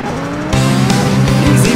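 Race car engines in the rally video game Rock N Racing Rally drone loudly, then surge and climb in pitch together as the cars launch, with a dense, continuous roar.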